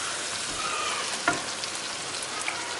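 Dal with chili cooks over a medium flame, giving a steady close sizzle and frying hiss throughout, with a faint stir or clink partway through.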